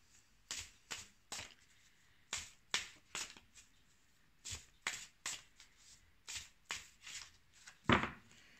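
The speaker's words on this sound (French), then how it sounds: "Donc, je vais tirer cette carte." Tarot cards being handled and shuffled, a run of crisp slaps and riffles in irregular bursts, close and fairly quiet, with a stronger snap near the end and no speech.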